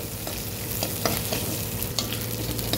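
Washed amaranth leaves tossed into a pan of frying dried red chillies, a steady loud sizzle with scattered stirring scrapes and crackles, no voices.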